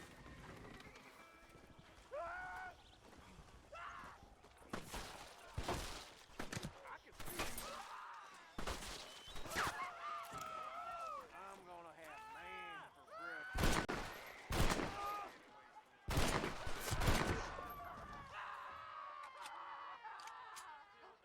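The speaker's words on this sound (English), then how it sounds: "The town's shooting at me for no reason." Townspeople fire guns in Red Dead Redemption, with several loud, sharp volleys of shots breaking out between stretches of voices and ambient town noise, while hoofbeats and animal sounds mix in the background.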